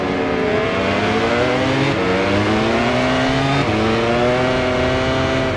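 A racing motorcycle engine screams steadily at high revs in the MotoGP 24 game, pitch climbing through the gears with brief dips at each shift, loud and close throughout.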